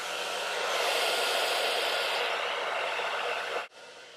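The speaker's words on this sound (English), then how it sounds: "hit them again with the blow dryer" A blow dryer runs on low speed with high heat over hair rollers, giving a steady, close, broadband whoosh that holds evenly for several seconds before cutting off abruptly near the end, with no talking.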